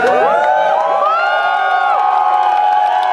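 Festival crowd at a Saturday morning Christian music festival cheering and whooping loudly before a band comes on, a dense, continuous roar of voices with high shouts layered throughout.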